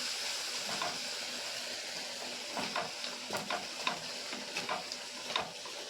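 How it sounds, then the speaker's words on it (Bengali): Prawns with spices and yogurt stirred in an oily pan, a soft, fairly faint sizzling hiss broken by repeated light scraping strokes of the spoon. "সব কিছু দিয়ে চিংড়ি মাছটাকে কিন্তু আবার একটু ভালো করে নেড়ে দেবো।"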